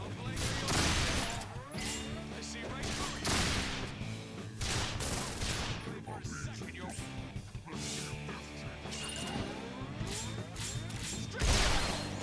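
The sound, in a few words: gunfire from the video game Resonance of Fate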